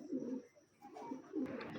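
Pigeon cooing softly in a close, quiet setting, a few low rolling coos with short pauses between them, faint and alone.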